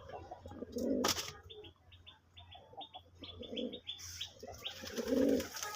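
A male local pigeon gives a repeated cooing call, several close, loud coos with chirpy notes between them and a burst of flapping wings, heard alone without speech.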